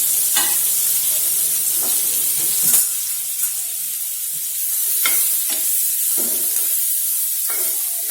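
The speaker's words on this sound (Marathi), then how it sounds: "शिमला मिरची, कांदा आणि गाजर हे हाय फ्लेमवर छान भाजून घ्यायचे." Capsicum, onion and carrot stir-fry on high flame with a loud, constant hissing sizzle, broken by repeated scraping strokes of a spatula close by.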